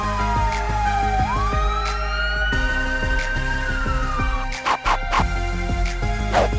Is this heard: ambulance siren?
yes